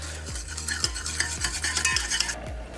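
A mixture is stirred in a bowl at home, with repeated scraping strokes about every half second, close up and fairly loud, with no talking.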